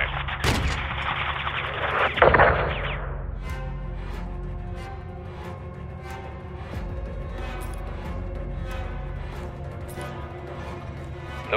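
Artillery fire in the video game Call of Duty: Modern Warfare II on PS5: a couple of heavy blasts early, a long whooshing roar that fades, then a low rumbling battlefield drone with faint ticks.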